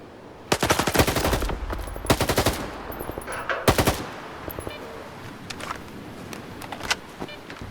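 Stalker 2 gameplay fills with bursts of rapid automatic gunfire: several loud volleys up front, then scattered fainter shots with mechanical clicks and rattles trailing off.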